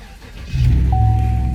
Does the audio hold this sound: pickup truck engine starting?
yes